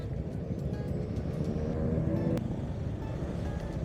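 Road traffic at the Tagaytay rotonda, a busy roundabout: a steady low rumble of passing vehicles with a constant engine drone and no clear breaks.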